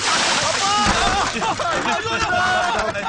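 Water splashed onto a person at a tea stall, a messy splatter and slosh with loud voices talking over it throughout.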